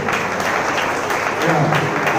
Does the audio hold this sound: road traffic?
no